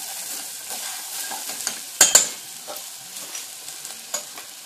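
Bread frying in a pan for Castilian soup, a steady soft sizzle with light stirring scrapes and a couple of sharper clinks of a utensil against the pan.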